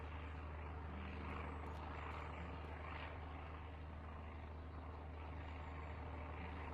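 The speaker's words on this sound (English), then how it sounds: "A military plane flying low across the map." A military plane flying low overhead in SurrounDead, a loud, constant droning engine roar that holds steady throughout without fading.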